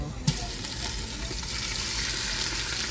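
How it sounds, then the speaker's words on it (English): Pot roast sizzles steadily in a hot Instant Pot, starting with a sharp clunk of a utensil, then a continuous frying hiss with light stirring scrapes. "sizzle, sizzle"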